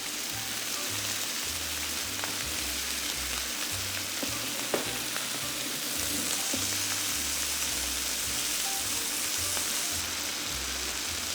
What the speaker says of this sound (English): Leave the beef alone and let it fry for about 30 seconds to 1 minute.